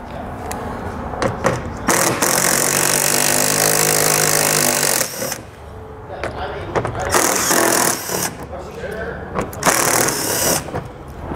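A socket wrench ratchets steadily while a 10 mm socket removes the silver underbody panel fasteners on a 2020 Chrysler Pacifica, close-up, with clanks and handling noise between the ratcheting runs.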